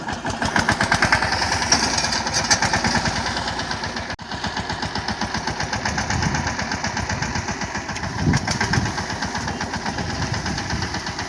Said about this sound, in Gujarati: હવે જવો ટ્રેક્ટર જાય છે રિવર્સમાં.